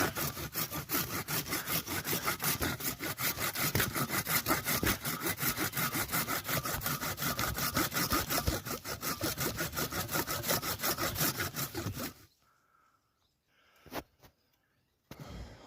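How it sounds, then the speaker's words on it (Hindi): A hand saw cuts through plum tree wood in steady, rapid back-and-forth strokes, loud and close for about twelve seconds before stopping, followed by near silence with a few faint knocks. "आरी।"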